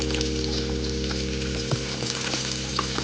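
Onions frying slowly in melted mutton fat over a low flame for mutton sambar, a steady, soft, even sizzle with faint crackles and pops throughout, close by and without any talk.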